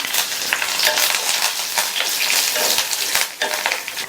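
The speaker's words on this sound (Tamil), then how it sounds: "தாளிப்பு போடுறதுக்கு அதே கடாயில கொஞ்சமா எண்ணெய் சேர்க்கிறேன். எண்ணெய் சூடாயிடுச்சு." Mustard seeds, urad dal, curry leaves, three dried chillies and asafoetida fry in hot oil in a kadai for a chutney tempering, a loud, close, continuous sizzle with crackling pops and scattered spitting bursts throughout.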